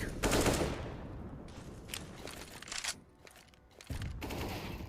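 Gunfire in a Counter-Strike match, an AWP sniper rifle fired through smoke among a flurry of other shots, with sharp loud bursts clustered near the start and again toward the end.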